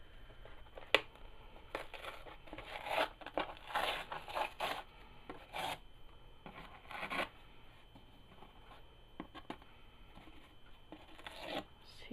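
Paper being peeled and torn from a distressed journal page produces bursts of dry ripping and rasping, close and moderately loud, separated by quieter pauses with small rustles.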